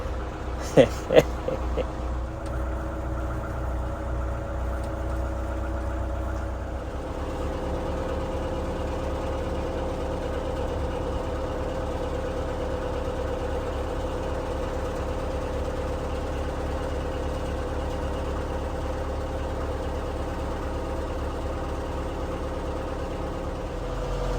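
A narrowboat engine chugs at cruising speed on a canal at night, a steady low throb after a few brief knocks at the start, continuous and fairly close, with no talking.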